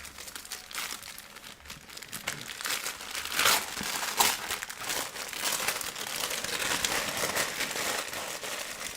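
Wrapping paper on a Christmas present is crinkled and torn open, giving a continuous close, dry rustling and crackling that grows busier partway through, with no talk.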